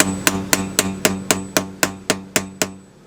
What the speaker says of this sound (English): I'm going to go ahead and tap this in with a hammer, fully seat it into this original pipe